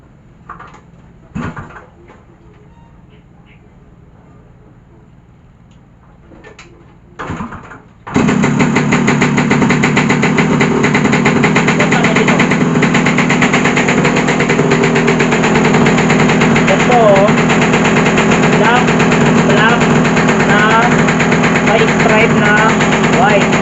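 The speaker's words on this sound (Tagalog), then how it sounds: "Paandarin ko lang po ang motor ha." A motorcycle engine catches after a few faint clicks and bumps, then runs steadily and loudly, with a raspy idle.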